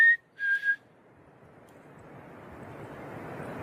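A person whistles outdoors in the mountains at night, giving two short, clear whistled notes close by, then a faint steady wind-like hiss builds slowly.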